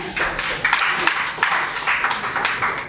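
An audience applauds steadily as a guest, Asad Nazir, is welcomed onto the stage at an evening tribute event for Yunus Hamdam; the clapping is sustained and fairly loud, with no talking over it.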